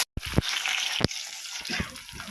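Mustard seeds in hot oil for a green pea and tomato curry give a bright continuous sizzle, with a few sharp pops and clatters rising above it.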